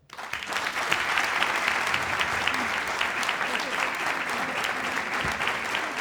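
Married couples in a live comedy show audience clapping in response, a quick rise into dense, steady applause from a sizeable crowd that holds evenly for several seconds.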